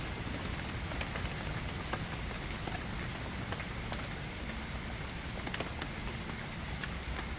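Gentle rain falls steadily through a forest, a soft, even patter with scattered crisp droplet ticks and no voices.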